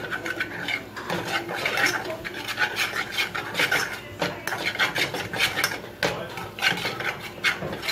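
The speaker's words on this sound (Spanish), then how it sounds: "le voy a echar la harina. Vamos a revolver." Spoon scraping and rubbing in a pan as flour is stirred into a chicken croquette mixture, a continuous rhythmic rasping close up with no talk.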